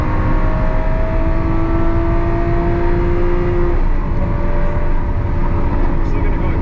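A Lamborghini Aventador SVJ drives in Corsa mode while the car and tires warm up, giving a loud, steady engine drone with tonal whine from inside the car.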